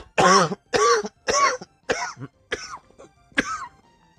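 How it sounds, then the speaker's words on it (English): A man has a coughing fit mixed with throat clearing: six harsh bursts about half a second apart, close to the microphone, growing slightly weaker toward the end. "Had a little extra fit of cough."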